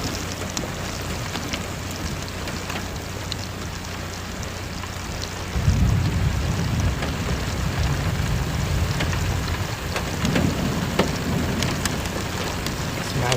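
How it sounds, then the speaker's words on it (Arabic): Heavy rain with hail in a thunderstorm over Umluj, a dense steady roar of downpour, swelling about halfway through with a low rumbling surge of thunder and heavier pelting, with no talk. "اسمع البرد."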